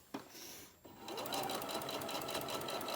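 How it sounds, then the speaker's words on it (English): Home sewing machine stitching fabric with the needle-down feature on, a steady close mechanical whir that starts after a couple of short knocks and runs continuously to the end. "I'm using my down feature on my sewing machine"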